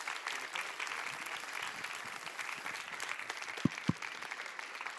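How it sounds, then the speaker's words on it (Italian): A live audience claps for the director of a science and technology museum as he comes on stage, the applause moderate and steady, with a couple of sharp thumps near the end. "che bello gli applausi dal vivo"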